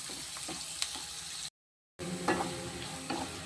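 Onions frying in a pan for a Tamil prawn curry, a steady close sizzle with soft stirring scrapes and a few light ticks, broken by a brief half-second gap of silence midway.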